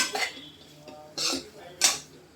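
Three short metal scrapes from a spoon stirring green chillies coated in flour in a pan over medium heat. They come at a loose, uneven rhythm, close by, with quiet pauses between them.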